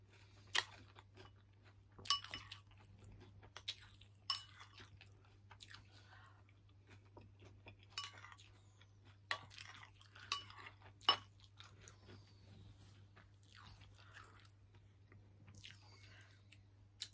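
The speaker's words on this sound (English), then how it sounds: "I do always like to eat cereal in the morning. Multi-grain cereal that is not with too much sugar." Crunchy multi-grain breakfast cereal being chewed close up, soft irregular crunches and bites with occasional faint clinks of a spoon against a bowl, over a low steady hum.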